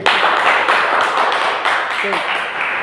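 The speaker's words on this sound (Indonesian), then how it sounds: "Oke, tepuk tangan buat Immanuel dan Calvin." Classroom applause during a microteaching lesson, a burst of several people clapping in uneven rhythm, fairly close and loud, with a voice briefly mixed in.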